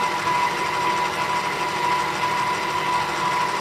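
Electric mixer beating butter in a bowl while creaming it for a pound cake. A steady, even motor hum runs unbroken at moderate loudness from start to end.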